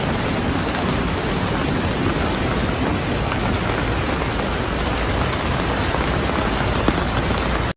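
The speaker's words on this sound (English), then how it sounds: "A powerful storm system that initially affected parts of Italy with heavy rain and flooding" Heavy rain from a powerful Mediterranean storm pours down over Catalonia, Spain, as a dense, loud, unbroken hiss that stays steady throughout and then cuts off abruptly at the end.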